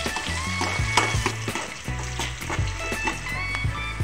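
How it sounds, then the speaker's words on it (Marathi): Chopped onion sautés with cumin in a hot pan, making a dense, close sizzle with regular spatula scrapes and stirring knocks throughout. "कांदा टाकते. कांदा लाल करूनपर्यंत कांदा परतून घेऊ."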